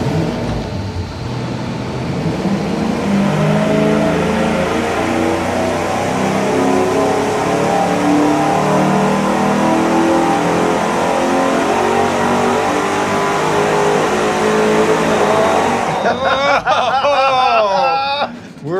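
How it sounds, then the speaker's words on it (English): Engine revving hard on a dyno through a single exhaust with a turbo muffler and a 90-degree merge, a loud sustained roar for most of the clip before cutting off sharply near the end. "We're ready to fire up and run it with the single exhaust with a turbo muffler"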